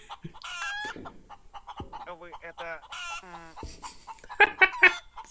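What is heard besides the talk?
chicken clucking in the video game Breathedge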